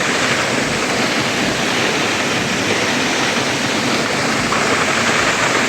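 Dhodhani waterfall near Panvel pours with great force, a loud, unbroken roar of rushing water heard from close range, steady throughout with no voices.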